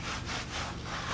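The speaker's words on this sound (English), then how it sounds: "I'm just gonna scrub this shit" Scrubbing a garage gym surface, a steady broadband rubbing with faint back-and-forth swells, continuous and close.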